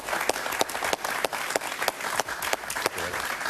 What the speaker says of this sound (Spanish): Otto Reich, un aplauso para él, por favor.